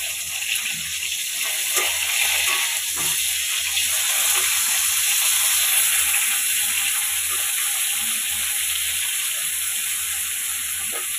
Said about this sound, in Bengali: মাছ ভাজি বসিয়ে দিয়েছি, কয়েকটা ভেজে নিয়েছি আর কয়েকটা দিয়েছি এখন।